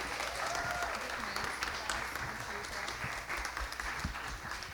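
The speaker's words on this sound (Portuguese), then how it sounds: "uma salva de palmas" Audience applause for wedding celebrants being welcomed at a bridal and music event in São Paulo, a steady dense patter of many hands clapping throughout, with faint voices mixed underneath.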